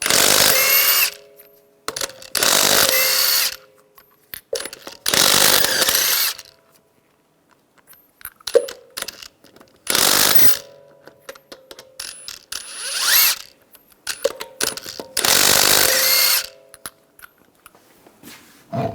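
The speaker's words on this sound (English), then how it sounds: "use a 22mm socket, take the lug nuts off" A ratchet on a 22mm socket spins lug nuts off the wheel of a 2011-2018 Ram 1500 3.6L V6, loud repeated bursts of rapid clicking separated by short pauses and clanks, close up, no talking.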